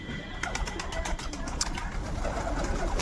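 Pigeons gather to peck at scattered grain, giving a close, steady murmur of cooing, with wing flutters and soft pecking clicks throughout.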